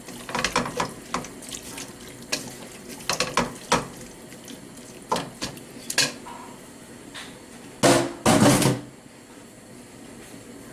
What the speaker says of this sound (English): I've added the hot water to the carrots and the base